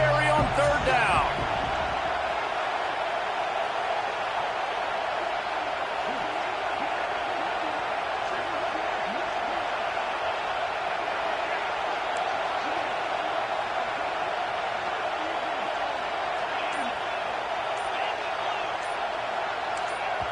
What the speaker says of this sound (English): The Sooner fans booming, a cacophony of noise at the Palace on the Perry on third down.